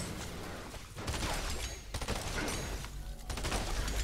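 Gunfire in the video game Fortnite, with a pump shotgun firing among dense, loud bursts of shots that come in clustered volleys across a few seconds, with no talk.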